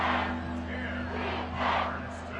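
A football stadium crowd at an Empire vs Saints game roars in a sustained wash of cheering and shouting, swelling in two loud surges, with a steady low hum beneath and no clear talk.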